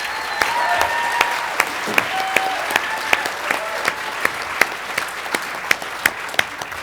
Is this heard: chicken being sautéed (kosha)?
no